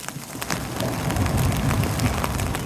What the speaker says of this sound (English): I'm walking, and it's thundering.